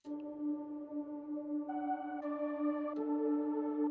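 A raw, unprocessed worship pad synth sample plays alone, soft and warm, its chords shifting a few times over several seconds with a smooth, steady tone.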